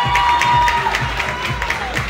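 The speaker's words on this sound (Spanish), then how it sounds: "Un fuerte aplauso también, por favor." A live show audience at the Mister Chile 2023 event cheers and applauds continuously and fairly loudly, a crowd roar with scattered whoops and steady clapping, while music plays underneath.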